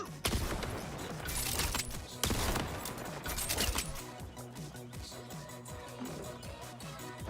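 Gunfire in the video game Borderlands 4: loud bursts of rapid shots and impacts layered over game music and effects, strongest in the first few seconds and then continuing more sparsely.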